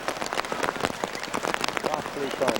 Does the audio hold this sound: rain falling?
yes